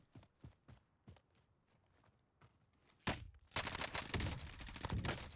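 Quiet, spaced thuds and footfalls in the Warzone video game lead into a sudden loud burst of gunfire, followed by a dense, sustained rattle of shots in close succession.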